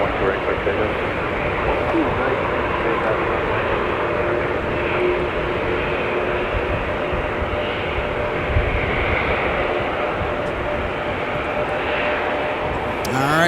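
A Sun Country Boeing 737-800 taking off at Minneapolis–St. Paul Airport in winter weather, a steady, broad engine roar heard from a distance that holds even throughout, with no voices.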